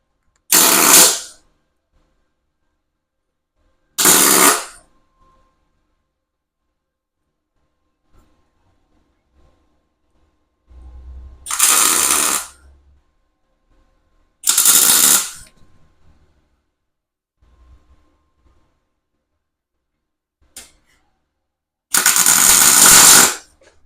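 Short bursts of welding as studs are tacked one by one onto a shop-made track saw guide, each buzz lasting about a second, separated by quiet pauses, close and loud.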